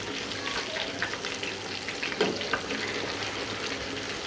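Fish fries in hot oil in a pan, giving a steady, close, crackling sizzle throughout. Faint stirring or turning noises sit on top of it, and no one speaks.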